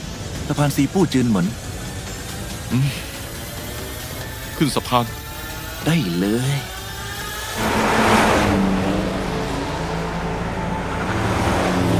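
Car engine revving and roaring during a car chase, a loud continuous drone that swells louder toward the end, with people talking over it in the first half.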